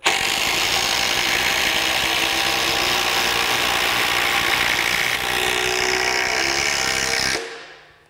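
A Metabo HPT 36V triple hammer impact wrench runs at full speed in forward with a loud, continuous rattling whine that holds steady for several seconds and then cuts off abruptly.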